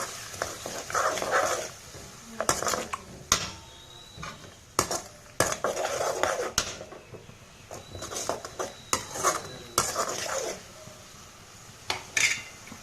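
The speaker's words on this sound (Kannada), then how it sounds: "ಇವಾಗ ಎಮ್ ಟಿ ಆರ್ ಪುಳಿಯೋಗರೆ ಪೌಡರನ್ನು ಹಾಕೋಣ ಇವಾಗ ಎಲ್ಲ ಮಿಕ್ಸ್ ಮಾಡೋಣ" Spoon scraping and clinking against a pan as MTR puliyogare powder is stirred into a boiling mixture, with irregular metallic knocks and scrapes over a steady bubbling background.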